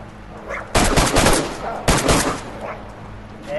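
Gunfire in the video game DayZ: two loud, close bursts of rapid shots, about a second apart, over quiet background noise.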